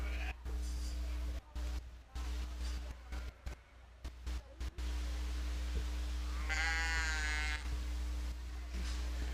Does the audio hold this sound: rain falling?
no